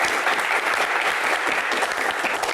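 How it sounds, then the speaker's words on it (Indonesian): Loud, dense applause from a crowd at a Jakarta anniversary celebration event welcoming Sutiyoso, a steady wash of many hands clapping throughout without talk. "Kita berikan tepuk tangan yang paling meriah untuk Sutioso"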